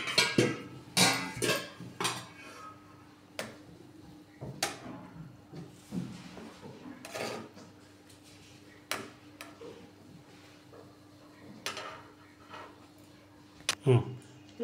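Fish pieces are flipped one by one in a steamer bowl with a utensil, giving sparse clicks, taps and clinks of metal against the bowl spread over a quiet background, with occasional low talking.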